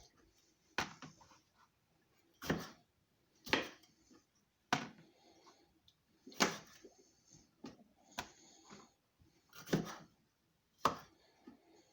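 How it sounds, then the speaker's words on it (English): A knife chops passion fruit into small pieces sharply on a cutting board, about nine distinct strikes at an uneven pace with short pauses between them, close and fairly loud. "I'm going to cut up my passion fruit in small pieces."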